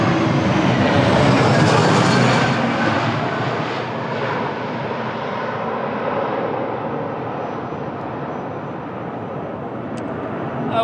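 Air Europa Boeing 737 MAX 8 airliner at Lisbon Airport in windy conditions, a loud broad jet roar that swells early then slowly fades as the aircraft moves away, with wind noise throughout.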